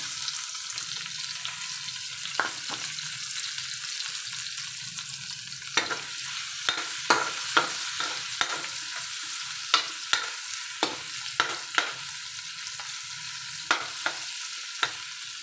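Garlic and onion sautéing in a pan for pork caldereta, a continuous bright sizzle broken by frequent sharp clicks and scrapes of a spatula against the metal.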